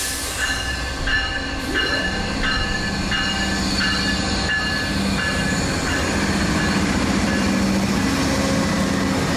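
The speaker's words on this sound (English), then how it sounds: "Amtrak 52, the northbound auto train, running on an advance approach, must proceed by here" A northbound Amtrak auto train rolls past on CSX track, a steady loud rumble with repeated rhythmic wheel clicks over rail joints and high-pitched wheel tones sustained throughout.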